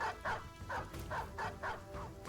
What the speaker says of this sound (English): Great, they've got 3 dogs.